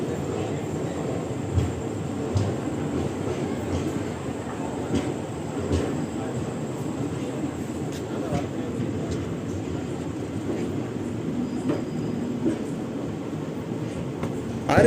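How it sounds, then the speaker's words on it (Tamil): Passenger train running on a railway line between Nagercoil and Karaikkudi, a continuous low rumble and rattle of carriages with occasional clanks, heard steadily from inside the train. "இந்த ரூட் வழியாக தான் இந்த ட்ரெயின் வந்து ட்ராவல் ஆக போகுது."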